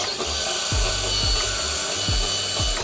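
A drill bit bores out a bolt hole in a widebody front fender on a C6 Corvette, a loud continuous grinding whine with a repeated low pulsing as the bit bites and spins.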